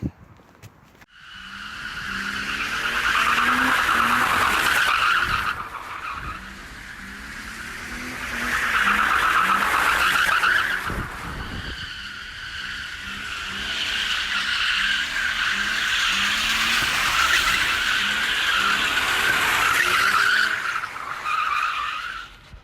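A car skids with long tire squeals while driving over a white snooker ball. Several loud screeching bursts come one after another, separated by brief pauses, with engine noise underneath.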